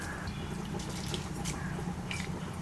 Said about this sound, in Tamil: தண்ணியெல்லாம் இல்லாமல் வடிச்சிட்டு இதில் போட்டுக்கோங்க.